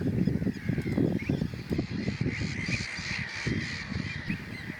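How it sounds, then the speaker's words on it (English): A dense chorus of gulls calling over and over at a breeding colony on an island in the New Forest, England, many harsh cries overlapping continuously, close and loud. "On this island, gulls are rearing their young."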